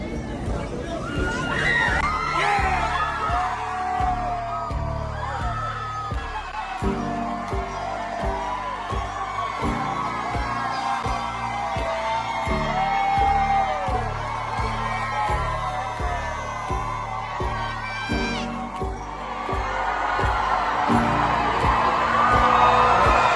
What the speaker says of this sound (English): you hear people cheering outside the courthouse